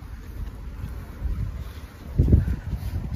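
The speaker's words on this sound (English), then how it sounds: "So windy today." Gusty wind buffets the microphone during an outdoor walk toward a bridge, a steady low rumble that swells into a stronger gust near the end.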